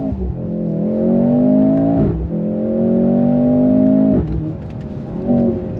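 A 2023 Mercedes-AMG C43 sedan accelerating in first gear from a slow roll, its engine note climbing steadily in pitch, briefly dipping and rising again twice, loud and close from inside the cabin.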